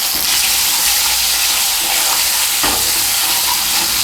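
Thinly sliced potato hisses loudly in hot oil with sesame, stirred as it fries, giving a close, continuous sizzle with a brief clatter of the utensil midway.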